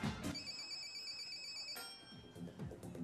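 A telephone ringtone sounds while a call is being connected on a 2008 Chinese TV game show. Clear electronic tones ring in bursts above low background noise and faint studio sound.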